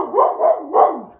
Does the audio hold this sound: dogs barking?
yes